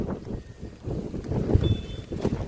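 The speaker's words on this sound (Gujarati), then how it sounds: "આ પવન આવે ને એટલે વધારે સારું લાગે" Wind gusts buffet the microphone in low, uneven rumbling waves during a rainy spell in Babra, Gujarat, with no clear rainfall heard beneath it.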